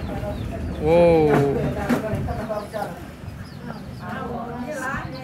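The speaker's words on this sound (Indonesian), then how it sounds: "Oh, ternyata garang ya ayam kalkunnya." Large turkeys calling aggressively near their owner, harsh gobbling bursts rising over a crowd of people talking nearby, one loud call early then scattered fainter calls under the chatter.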